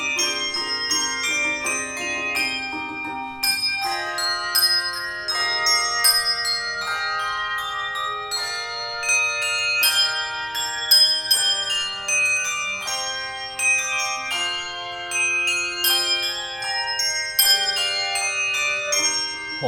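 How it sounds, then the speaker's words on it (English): A church handbell choir, masked and gloved at separate tables, rings a steady flowing melody of overlapping bright bell tones that sustain and decay, clear and close with no voices. "The bell choir, masked and gloved, rehearsed at separate tables and videotaped their music."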